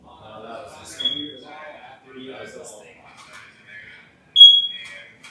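Two short, bright electronic chirps from a smoke alarm with a low battery, one around the first second and a louder one near the end, sounding over steady conversation in a room.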